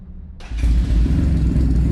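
A 2024 Kawasaki Ninja 400 twin-cylinder motorcycle starts with a short starter whir, then catches into a loud, close, steady low idle rumble.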